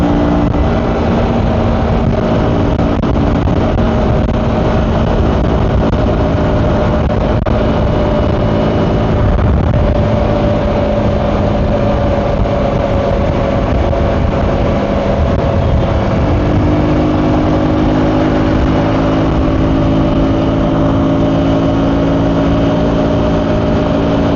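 A 2025 KTM Adventure 250 motorcycle rides on the highway, its engine a loud, steady drone under rushing wind noise, with the pitch shifting partway through as it downshifts.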